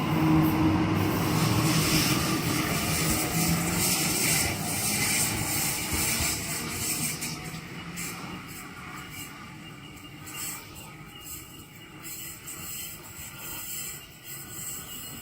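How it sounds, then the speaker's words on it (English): A Sydney Waratah electric train rolls through a station platform with a broad rumbling roar and hiss that gradually fade as it passes, a few faint squeals and rattles near the end. "We have a Waratah pass on platform number 1."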